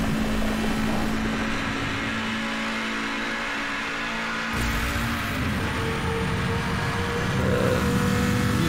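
A McLaren F1 engine drones at high speed in Need for Speed Hot Pursuit, a steady loud roar that shifts and surges midway as the nitrous boost kicks in.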